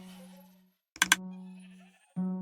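Sheep bleating in Minecraft: a steady tonal bleat, broken by two short sharp clicks near the middle, then another loud bleat at the end, close and clear with no talk.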